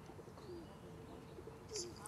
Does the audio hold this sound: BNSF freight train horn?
no